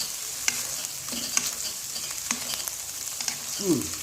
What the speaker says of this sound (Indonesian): Aduk hingga merata ya guys